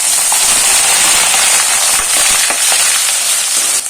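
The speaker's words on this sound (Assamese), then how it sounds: "এতিয়া মই ইয়াতে আদা নহৰুখিনি দি দিম।" Ginger garlic paste is dropped into hot oil with frying onions for a fish curry, throwing off a loud, dense crackling sizzle with scattered pops that holds steady throughout, with no voices.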